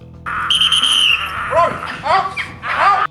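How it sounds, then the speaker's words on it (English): A dog owner blows a whistle once to call back his pup, a steady high bright blast near the start, followed by the dog's yelps and hollers. "the owner finally pulls out his secret weapon, a whistle"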